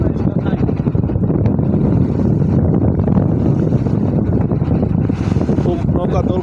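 A boat rocks on the open water near Patul in Natore as strong wind buffets it, making a loud continuous roar and rumble with gusty wind noise throughout.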